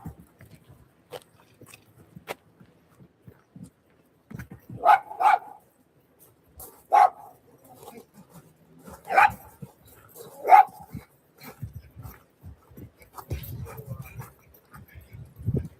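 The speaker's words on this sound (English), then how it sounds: "You got a dog coming up." A small chihuahua lets out several sharp, separate barks, spaced a second or two apart and moderately close, among scattered chewing and crunching noises outdoors in a neighborhood yard.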